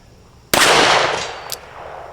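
A single sharp, loud shot from a Smith & Wesson Model 65 .357 Magnum revolver with a 3-inch barrel, fired outdoors at a 100-yard target, followed by a long decaying rumble and a brief faint echo about a second later.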